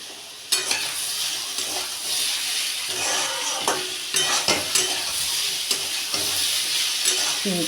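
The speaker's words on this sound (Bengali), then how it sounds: "চিনিটা যতক্ষণ না গলে যায় ততক্ষণ একটু ভাজা ভাজা করে নিতে হবে" Papaya pieces fry with a little sugar in a home kitchen pan, a continuous loud sizzle broken by repeated scraping stirs and light clinks of the spatula against the pan.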